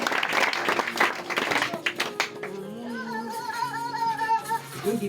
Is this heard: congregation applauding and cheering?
yes